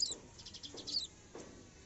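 A sparrow chick perched on a balcony grille gives a few faint, high chirps in quick succession, quiet against a soft background.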